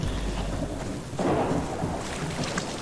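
Steady rain falls in the survival game Subsistence, a dense close hiss with a low rumble of thunder underneath, continuous and fairly loud without any talking.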